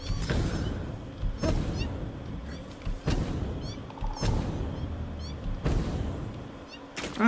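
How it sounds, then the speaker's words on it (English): Radioactive kitty creatures in the video game Satisfactory meow in repeated, drawn-out calls, about four close cries spread evenly over a low, steady game backdrop. "Ah, right here with the radioactive kitties."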